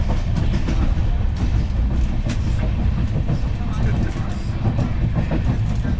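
Kanchenjunga Express 13175 running on the rails between Howrah and Tarapith, a steady loud rumble with a rhythmic clatter of wheels that keeps on throughout, heard from inside the train, with faint voices now and then.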